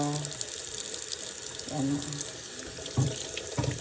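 A kitchen tap runs while leaves are rinsed under it, a steady close water stream broken by a few splashy bursts as the leaves are handled.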